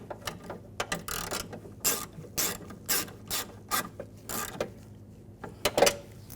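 A hand ratchet tightening screws on a window regulator bracket of a 2006-2010 BMW 550i, steady close clicking strokes in an uneven rhythm with brief pauses, no voices.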